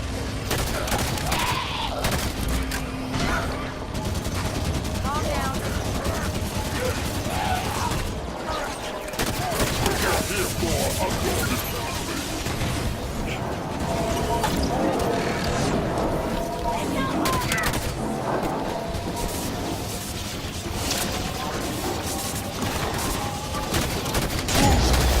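Sustained gunfire in the video game Halo 5: Guardians, with rapid bursts and repeated shots cracking over a dense, loud battle mix, and voices speaking through the action.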